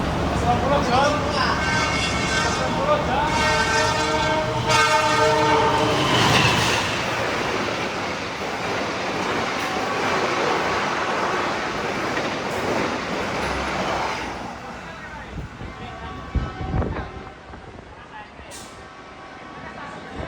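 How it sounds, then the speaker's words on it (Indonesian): The Sembrani express train roars past close by at Gubuk station in Indonesia, with rushing wind and rattling wheels, then fades away leaving quieter background noise with some voices. "kita akan disusul oleh kereta api Sembrani di stasiun Gubuk ini"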